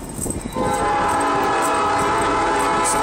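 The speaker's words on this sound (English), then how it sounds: "This time it is a freight train." Illinois Central 1015 freight train passing through Effingham, Illinois, with a loud, sustained roar of rail cars close by and a steady horn tone running from about half a second to the end.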